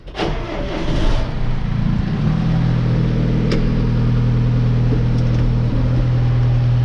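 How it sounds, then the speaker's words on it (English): A John Deere tractor starts and runs steadily as it pulls out of a farm shop, a loud, close engine drone with a low hum holding level for several seconds, with a few brief clanks near the start. "Let's pull the tractor out of the shop"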